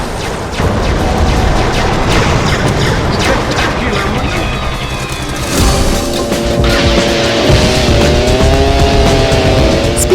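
Cars roar and race in a car combat video game, with engines revving and tires squealing and skidding in a loud, continuous, busy mix of driving action and crashes.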